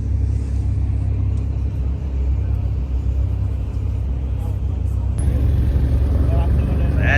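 A car engine rumbles and revs loudly at a JDM car show, a deep throaty drone that swells and sharpens near the end, with a crowd and voices around it.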